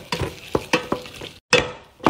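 Garlic and shrimp shells frying in olive oil in a pan, with sharp bursts of sizzling and scraping stirs repeating irregularly, loud and close, with no voices.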